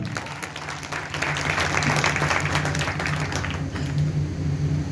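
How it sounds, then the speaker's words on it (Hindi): An audience at a closing event in Gajipur breaks into applause, dense rapid clapping from many hands that swells after the first second and keeps going steadily, with a low hum underneath. "मैं चाहूंगा इस महान संस्था के लिए AWP जोरदार तालियां बजा दोस्तों"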